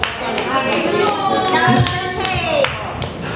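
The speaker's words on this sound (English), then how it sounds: "Give him a big round of applause." An audience at a red carpet book launch claps with some cheering, scattered sharp claps and a broader applause swell, while someone talks over it and a high whistle-like tone rises and falls.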